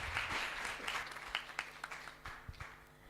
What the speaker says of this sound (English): please give applause for the LGBT team